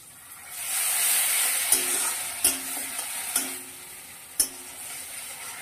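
A splash of water hits a hot pan of spiced curry gravy with salt, turmeric and sugar, giving a steady, close hissing sizzle broken by a few sharp utensil clinks against the pan.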